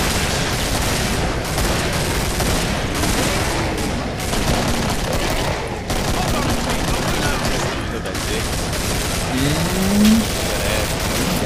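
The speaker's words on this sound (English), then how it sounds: "The AA12. This gun is just so beast." Rapid, dense automatic fire from the AA12 shotgun in the Killing Floor video game, continuous booming blasts throughout with faint talk underneath.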